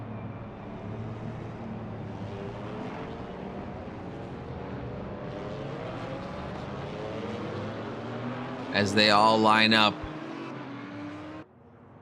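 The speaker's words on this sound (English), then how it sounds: "Revving up your engine. Listen to her howl and roar." Race car engines in a racing video game at Spa-Francorchamps drone and rumble steadily at a distance, with a voice briefly speaking over them near the end.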